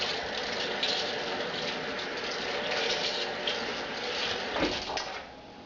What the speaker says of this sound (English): I'm just going to rinse it out with water.